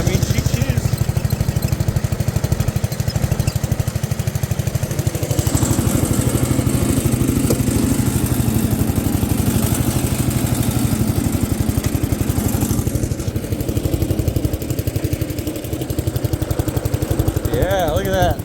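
Allis Chalmers garden tractor engine idling with a fast, steady chugging pulse, loud and close, revving up slightly partway through; a person talks briefly over it.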